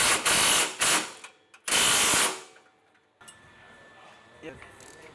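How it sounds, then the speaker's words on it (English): A ratchet loosening the upper radius rod hardware on a Polaris XP Turbo: two loud, rapid clicking bursts close by, each under a second, then a quieter stretch of faint mechanical handling. "loosen the hardware holding the upper radius rod to the vehicle"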